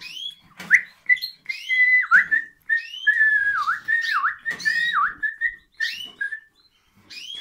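A male cockatiel gives repeated loud, close whistled calls and screeches, rising and falling in quick bursts with short pauses, continuing throughout with no talk.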